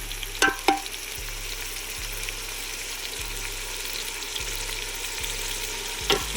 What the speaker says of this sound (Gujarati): હવે નાખી દઉં આ પીળી પીળી હળદર